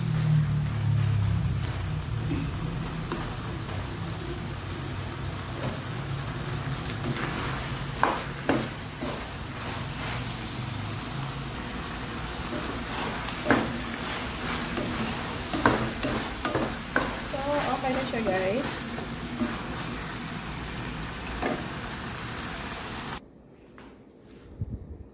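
Chili being stirred into pork and bamboo shoots frying in a pan, a steady close sizzle with scraping spoon strokes throughout, ending abruptly near the end.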